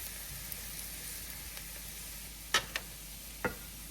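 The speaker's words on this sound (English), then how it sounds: "We have to allow the flour to cook for a few minutes." Flour cooking in a pot for a homemade turkey pot pie gives a steady, quiet sizzle and hiss throughout, broken by a few brief utensil taps near the end.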